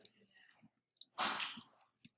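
Mouse clicks while answering questions in the Kami online worksheet tool, a few sharp clicks with soft speech-like sounds around them.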